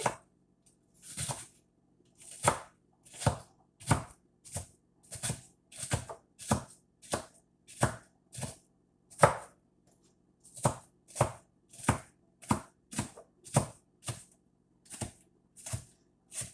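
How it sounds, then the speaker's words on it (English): Knife chopping an onion on a board, about two dozen crisp close strikes in quick irregular bursts with short pauses, clean and without talk. "Chopping this onion. Chop, chop, chop."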